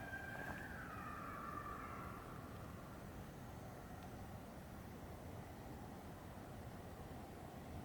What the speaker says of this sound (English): That's the second siren I heard today.